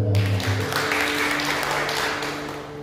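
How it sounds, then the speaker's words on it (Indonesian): A church congregation at a GPdI Marturia Sunday service claps. The applause sounds moderately full and fades gradually, while low sustained tones from instruments or the sound system hum underneath. "Berikan tepuk tangan."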